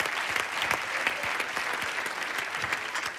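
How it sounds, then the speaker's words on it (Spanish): A studio audience claps steadily, with many sharp individual hand claps standing out in a dense, even patter that holds throughout. "Un aplauso para ellos, lindo."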